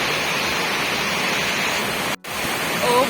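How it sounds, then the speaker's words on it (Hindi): Heavy rain pours down in a dense, loud, steady roar of broadband noise, cut by a momentary dropout before continuing just as strongly. "इतनी तेज़ बारिश आ रही है"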